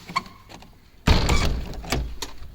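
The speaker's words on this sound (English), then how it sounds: "Please close the" A door is shut with a sudden loud thud partway through, followed by a soft rattle and faint background sounds in a room.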